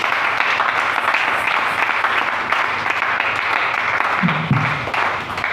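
A church congregation applauds, steady dense clapping from many hands that stays loud and even throughout, with a brief voice rising underneath near the end.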